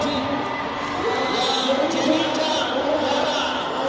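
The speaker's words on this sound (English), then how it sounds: "Hear the cheer right now." A large stadium crowd at an athletics national championship race cheers and whoops in a continuous roar, heard under a commentator talking throughout.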